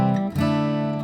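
Acoustic guitar strumming the opening chords of a song without a capo, a full ringing chord that changes to a second strummed chord partway through, sustained and close.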